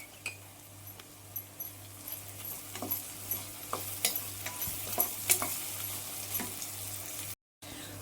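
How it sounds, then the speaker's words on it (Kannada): Onions and curry leaves fry in a pan, a soft steady sizzle under scattered light stirring scrapes and faint utensil clinks, moderately quiet and without voices, ending in a brief dropout. "ಈರುಳ್ಳಿ ಚೆನ್ನಾಗಿ ಹುರಿತಾ ಇದೆ."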